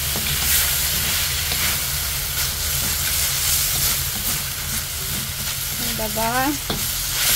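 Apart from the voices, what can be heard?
garlic frying in oil for tinola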